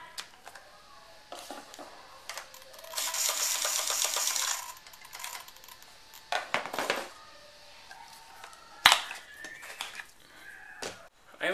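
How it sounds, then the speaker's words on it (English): Servo on an OFNA Ultra LX2e RC car buzzes in bursts during a quick test, a sustained whir near the middle with shorter clicks and whines around it, close and moderately loud with some background noise. "I'm just going to do a quick test here of the servo."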